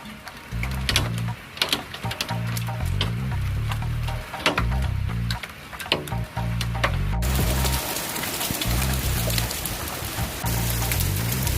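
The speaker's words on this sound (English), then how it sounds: "look at the rain and the hail" A heavy rain and hail storm in Leeds pounds outside, with a dense hiss of rain and sharp, irregular ticks of hailstones. Gusty low rumbling swells and drops throughout, close and loud, with no speech.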